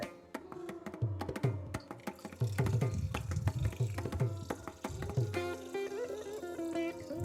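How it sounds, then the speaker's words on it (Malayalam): A cup of water pours and splashes steadily into a metal pot of lemon curry on a gas stove, the tone rising slightly as it fills, with a few clinks near the start. "ഗ്യാസ് അടുപ്പിലിരിക്കുന്ന ആ നാരങ്ങയിലേക്ക് ഞാൻ 1 കപ്പ് വെള്ളം കൂടി ഒഴിച്ചു കൊടുക്കുന്നുണ്ട്"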